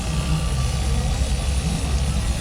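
An AH-1F Cobra helicopter engine at an airshow gives off a steady, loud, close-up roar with a constant whine and no breaks.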